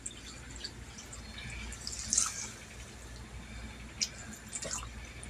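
Water from a small container poured into a cooking pan beside a braided pork loin with vegetables, heard as light splashing and dripping with a few brighter spatters, close by, with no talk.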